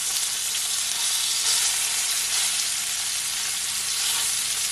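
A lamb chop in garlic butter sizzles and fries steadily in a hot pan as it is turned over, a loud, even hiss that runs throughout with no talking.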